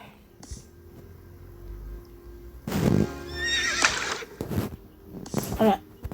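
A horse in a video game gives a loud, drawn-out neigh and whinny, with a few hoof clops and shorter snorts following, while a voice talks over the game sounds.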